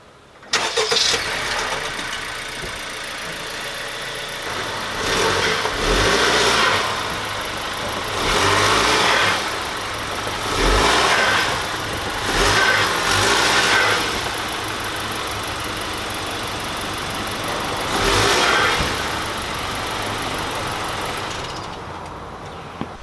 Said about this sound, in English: get in your car and drive up the ramps